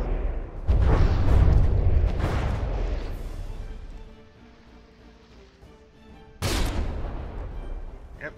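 Cannon hits strike a ship in the naval combat game From the Depths, a heavy rumbling barrage of booms up close, fading to a low hum before another sharp impact near the end.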